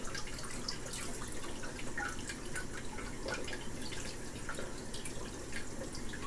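Water drains back through a cut valve line on a Python aquarium hose used with a freshwater tank, a steady close trickle with scattered drips running throughout.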